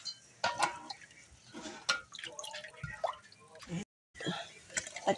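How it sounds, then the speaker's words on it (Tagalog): Water is poured into a cooking pot for Filipino pansit palabok, giving splashy, dripping liquid sounds in short bursts beneath close, lively talking. "Ilagyan na natin ang tubig."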